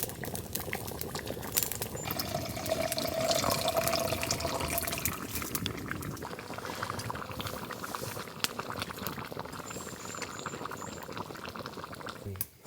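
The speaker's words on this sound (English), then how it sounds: "Stew's just been bubbling away for what, 2 hours now?" A stew simmers in a pot over a campfire at a tent-and-tarp bushcraft camp, giving a steady close bubbling and gurgling that runs throughout under intermittent talk.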